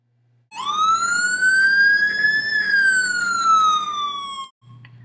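An ambulance siren wails loud and close as a single long rising-then-falling tone over about four seconds, cutting off abruptly, with a low vehicle rumble beneath.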